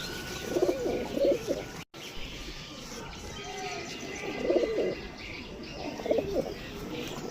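Rampuri pigeons cooing in repeated low, rolling bursts at close range, with a few chirps and brief wing sounds between them and a faint background hiss.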